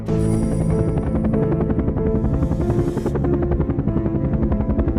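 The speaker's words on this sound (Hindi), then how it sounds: "बाबा का हेलीकॉप्टर पहुंच गया।" A cartoon helicopter whirs steadily with rapid chopping rotor pulses over a bright musical backdrop, loud and close throughout.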